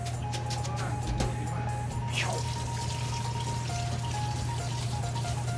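Cold water pours and drips steadily while oysters are rinsed in a kitchen, a constant close splashing trickle with a faint low hum underneath.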